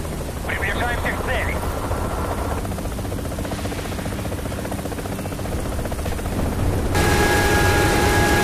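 In the Call of Duty: Black Ops video game, a Hind attack helicopter's rotor churns as a loud, steady drone mixed with gunfire and battle noise, with game announcer voices over it.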